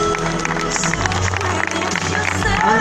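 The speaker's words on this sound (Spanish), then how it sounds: "Antonella, siente esos aplausos." Applause for a graduate at a 2017 INSC graduation reception: a brief, dense wash of crowd clapping mixed with a voice speaking and background music.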